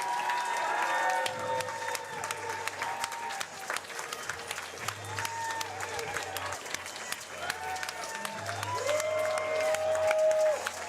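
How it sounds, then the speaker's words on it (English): A wrestling crowd at the Immortal Kombat 8 event applauds and cheers Alec Price as he leaves ringside after his match with Stu Grayson: steady, loud clapping and crowd roar throughout, with faint voices underneath. "Alec Price just got a standing ovation as he leaves the ringside area."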